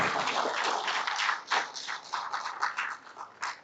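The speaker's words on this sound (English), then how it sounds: "let's make the applause louder once again for her" An audience at a journalism conference applauds a woman, a steady wash of many hands clapping that stays loud and continuous throughout, with individual claps standing out as it rises and falls.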